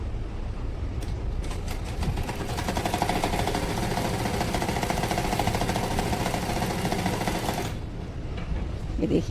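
Sewing machine stitching cotton cloth for a Laddu Gopal dress, a fast steady mechanical whirring chatter running continuously at close range, starting and stopping near the edges.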